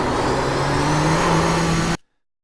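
Nissan GTP ZX-T race car engine in the iRacing simulator, accelerating out of a corner at Watkins Glen: a steady, loud, buzzing engine drone that rises slightly in pitch, then cuts off abruptly.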